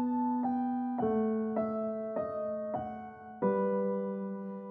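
A simple orchestral phrase from the Synchron Prime Edition library at its default dynamic range of 127: seven sustained chords change in steady succession, each with a soft attack, ringing fairly loud and alone with no voices.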